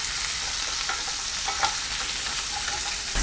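Small onions sautéing in a pan for mint chutney give a steady, close sizzle with occasional stirring scrapes, continuous and even throughout with no talking.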